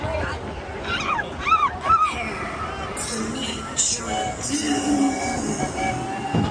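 Roller coaster train at Cedar Point rumbling and clattering along the track, with people shouting and squealing over it and a few metallic clanks.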